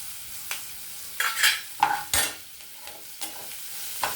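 Curry leaves and chopped green chillies dropped into a hot pan, several sharp crackling bursts and spatters over a quiet low sizzle, close and intermittent, without speech.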